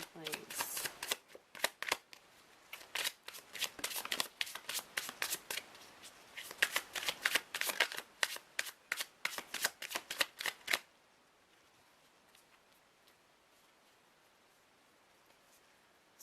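A deck of tarot cards is shuffled for a reading: rapid, close riffling and slapping bursts in an uneven rhythm for about eleven seconds, then near silence with a few faint rustles.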